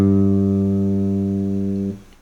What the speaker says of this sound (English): The other extreme is a treble-y sound.